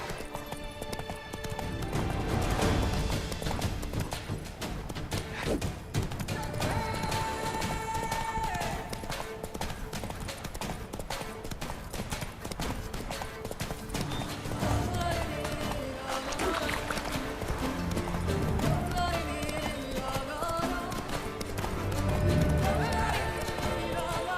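Roach, a horse in The Witcher 3, galloping with rhythmic hoofbeats under a dense orchestral game score, moderately loud throughout with brief voice lines.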